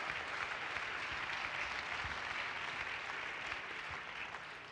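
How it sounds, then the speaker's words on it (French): Steady, dense applause from an audience in a hall, welcoming a guest onto the stage, continuing evenly throughout without any voices. "Je vous demande également de l'applaudir."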